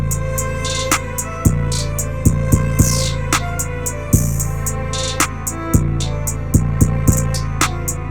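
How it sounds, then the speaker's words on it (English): Distorted 808 bass with a soft clipper in a trap beat, deep booming hits in a syncopated pattern under steady hi-hats, a sustained melody and a sweeping riser effect, loud and upfront. "And then next to that we have the 808,"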